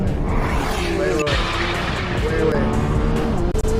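A C8 Corvette ZR1 racing a Lamborghini Revuelto, heard as loud engine roar with tire noise and shifting tones from both cars, with voices reacting over it and a sharp crack near the middle.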